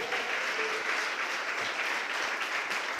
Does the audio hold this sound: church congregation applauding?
yes